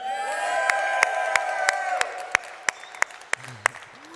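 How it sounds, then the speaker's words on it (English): A convention audience at a Web3 gaming event cheers and claps in a sustained wash of applause, with sharp individual claps and whoops cutting through, then fading toward the end. "let's get a cheer"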